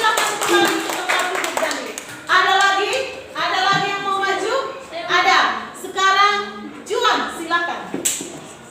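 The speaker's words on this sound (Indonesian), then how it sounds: "Tepuk tangan lagi untuk Daniel." Applause for a pupil named Daniel in a classroom, with children's voices chattering and calling out over scattered clapping in several short bursts.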